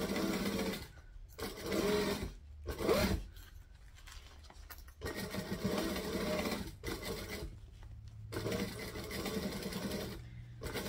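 A sewing machine back-stitches piping onto fabric in repeated whirring bursts of varying length, separated by short pauses, close and fairly quiet.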